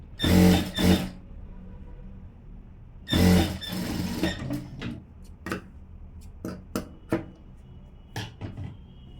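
Sewing machine stitching a blouse seam without an overlocker: two loud bursts of running stitches near the start, followed by quieter scattered clicks and taps from handling the fabric and machine.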